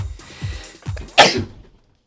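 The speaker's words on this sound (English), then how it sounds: "Cover your mouth, kids, when you sneeze." A single sharp sneeze bursts out close by after a few soft breaths, then fades quickly into silence.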